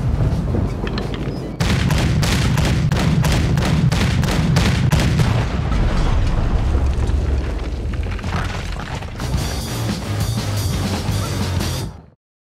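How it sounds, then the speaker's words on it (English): Cannon fire and explosions in the video game Red Dead Redemption 2: heavy booms and rapid blasts roar nonstop at close range, loud throughout and cutting off abruptly at the end. "You need to get that cannon out there!"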